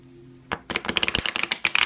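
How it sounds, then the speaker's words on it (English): An oracle card deck is riffle-shuffled up close in a quick flurry of crisp, rapid card clicks and flutters, after a brief quiet hum. "don't judge by whether I'm having difficulty shuffling it or not"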